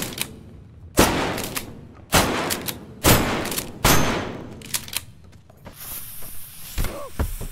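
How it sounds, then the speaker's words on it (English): Sniper shotgun gunfire in a Quest VR video game: four loud, evenly spaced blasts, each with a short decaying tail, followed by quieter clatter and thuds. "I don't think you can get away from my sniper shotgun."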